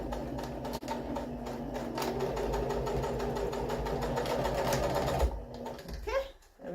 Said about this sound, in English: I'm just going to reinforce this area by stitching it again.